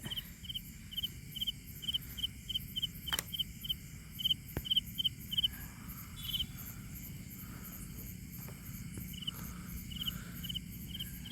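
Rhythmic high chirping of crickets and night insects, faint and layered, with scattered soft rustles and ticks in a quiet outdoor setting.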